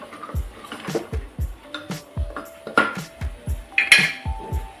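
A spoon scrapes and clanks against a metal pan in a steady, repeated rhythm, stirring salted vegetables for pav bhaji, with occasional sharper metallic knocks.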